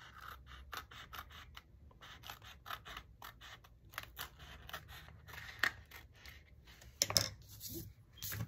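Scissors trim paper in a long run of quick, close snips, with small creaks and scrapes of the blades between cuts and no voices.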